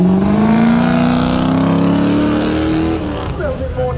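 A car engine revs loudly and climbs steadily in pitch as it accelerates from the start line of the Kop Hill Climb, then fades and drops off near the end.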